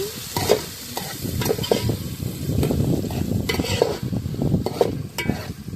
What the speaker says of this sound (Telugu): సన్నగా తరిగి పెట్టుకున్న ఒక మూడు ఎల్లి ఉల్లిపాయలు వేస్తున్నాను